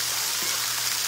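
A brief, steady wash of rain hisses evenly with no other sounds over it.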